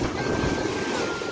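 Sea waves wash and break against the shore close by in a steady rushing surge, with wind buffeting the microphone throughout and no clear speech.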